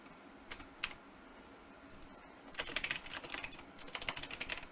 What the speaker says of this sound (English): Now we need to type in the map center address.